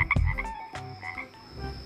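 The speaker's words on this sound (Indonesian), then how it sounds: "Wow, ini kodok guys." Frog croaks in a short burst, several close, loud rasping calls bunched at the start, then a weaker run of croaks trailing off over about two seconds, with no talking.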